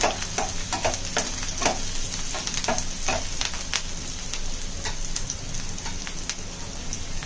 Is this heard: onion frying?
yes